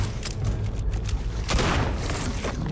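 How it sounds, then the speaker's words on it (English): Heavy booming gunfire from the Starfield video game rolls on continuously at close range, with dense overlapping shots and a louder burst midway. "Keep shooting at him."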